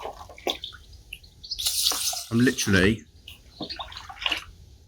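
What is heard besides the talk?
water poured over fishing pellets in a tub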